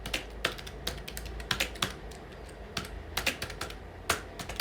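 Someone types an email address on a computer keyboard, a quick irregular run of close, crisp key clicks with brief pauses between bursts.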